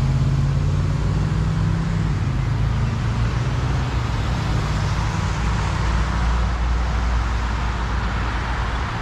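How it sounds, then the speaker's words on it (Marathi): Road traffic pulling away from a green signal at a town intersection, a dense steady roar of car and bus engines with a low droning hum, continuous and fairly loud. "ग्रीन सिग्नल मिळाला की कशी ट्रॅफिक पळेल."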